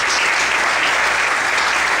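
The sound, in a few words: audience applauding strongly in church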